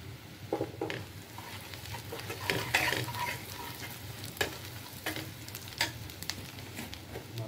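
Green chilies sizzle in mustard oil as they are stirred, a soft continuous frying hiss with regular scraping taps of the spatula on the pan, fairly quiet and close, with no talking.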